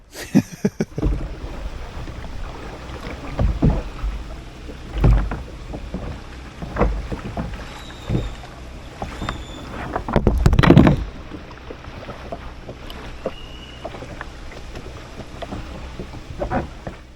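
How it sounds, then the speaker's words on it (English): Oars dip and splash as a kayak is rowed on the sea off the San Blas islands of Panama, with a few soft strokes and a louder cluster of splashes, close to the microphone over light wind. "I'm going to move this kayak and I'm going to row it over to a more populated area of the island."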